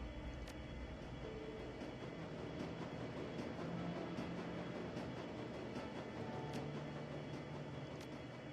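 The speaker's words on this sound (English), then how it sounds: "It's a short train ride to the Gessenbrunnen." A subway train ride in Shadowrun: Dragonfall rumbles as a steady low roar of rolling cars, with faint rhythmic clicks of wheels on track joints throughout and no voices.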